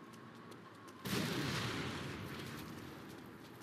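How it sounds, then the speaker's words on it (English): A siege artillery gun explodes in the video game The Saboteur: after a second of quiet ambience, a sudden loud blast bursts out and rolls into a long, gradually fading rumble. "I heard the gun blew itself off."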